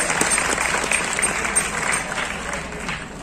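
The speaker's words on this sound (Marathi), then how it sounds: "टाळ्या वाजून आपण शहाजिंदे सरांचं आपण या ठिकाणी स्वागत करूया." A crowd applauds steadily at a teachers' literary conference inauguration, a dense wash of clapping that holds at a fairly even level for a few seconds.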